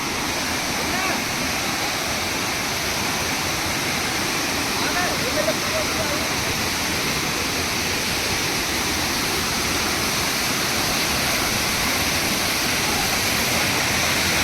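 Tirathgarh waterfall near Jagdalpur in Bastar pours in a steady, dense roar, loud and unbroken from start to finish, with no other sounds standing out.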